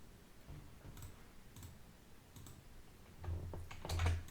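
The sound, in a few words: typing on computer keyboard while creating folders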